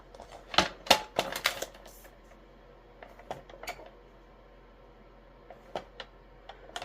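White cardstock is cut on a paper trimmer, giving a cluster of sharp clicks and snaps near the start, then a few sparse taps and a final short click, all close and without talk.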